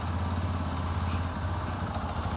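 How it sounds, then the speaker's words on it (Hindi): A Bajaj Pulsar 125 motorcycle's 125cc engine idles steadily with a low, throbbing rumble and light mechanical clatter, close and continuous. "आइए बाइक को स्टार्ट कर लेते हैं, इंजन साउंड सुन लेते हैं और एग्जॉस्ट नोट सुन लेते हैं।"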